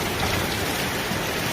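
Large hailstones falling during a hailstorm in a Chinese city. They make a dense, steady roar of hard pelting impacts that fills the whole moment, close and loud, with no voices.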